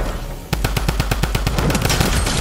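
Rapid automatic gunfire in the Fortnite video game, a loud, steady burst of about fifteen evenly spaced shots over continuous game background noise.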